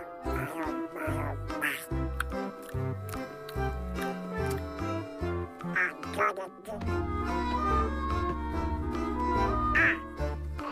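Cartoonish duck quacks from the video game Jurassic World Evolution 2 pop out repeatedly over loud, busy game music, short bursts scattered through the mix.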